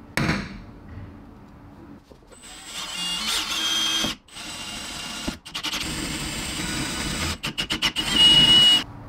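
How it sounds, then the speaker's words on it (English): A power drill runs in sustained bursts, boring a hole through the metal body of a BMW E60 behind the license plate bracket, with a steady whine, brief pauses and a stuttering, pulsing stretch near the end. "I'm going to be drilling a hole right here"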